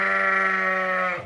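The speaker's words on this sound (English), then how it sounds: "hopefully that sheep over there doesn't quiet down" A sheep gives one loud, close bleat during lambing, a long steady wavering cry that fades out abruptly at the end.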